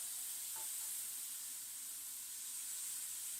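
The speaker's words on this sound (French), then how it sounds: "on a la machine à gaufres, qui est bien chaude déjà. Et on va préparer les premières gaufres" Waffle batter cooking in a hot waffle maker, a steady, bright sizzle and hiss of steam that continues unbroken and fairly faint.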